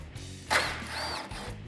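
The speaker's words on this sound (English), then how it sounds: "Grab a 10 socket and get these off." A ratchet with a 10mm socket working on Mustang headlight bolts gives a short, sharp mechanical clicking burst followed by quieter metallic turning sounds, close and alone.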